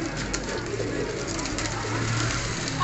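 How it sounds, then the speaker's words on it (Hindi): Sialkoti pigeons coo softly and continuously in the background, low murmuring calls over a steady ambient hum with no talking. "सियालकोटी कबूतर।"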